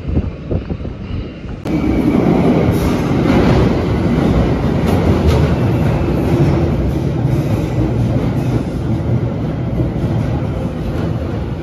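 A London Underground metro train runs with a loud, steady rumble and rhythmic rail clatter. The sound swells after a quieter opening and carries on continuously throughout, with no talking.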